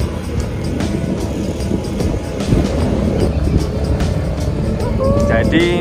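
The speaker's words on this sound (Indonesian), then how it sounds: "Naik ojek satu motor buat 4 orang." A motorcycle taxi (ojek) carries four riders, a small child among them, up a village road toward Sikunir peak in Dieng. Its engine drones steadily under rushing wind, with people talking over the ride.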